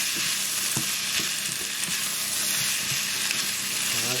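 Salt and pepper chicken wings sizzle loudly in a hot pan while being stirred, a dense, constant frying hiss with soft scraping knocks of the utensil and no talking.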